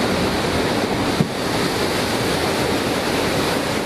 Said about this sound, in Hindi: समंदर की लहरें डरा रही हैं।